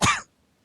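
Single harsh, wet cough from a man in an audio drama, a short loud burst with a raspy throat-clearing edge that cuts off abruptly into silence.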